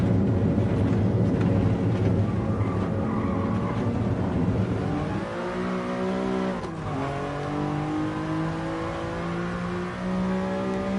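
Mercedes-AMG Black Series engine revving hard on the Nürburgring, a loud, sustained close roar that climbs through the gears, with a brief dip in pitch and a shift near the middle before it pulls up again.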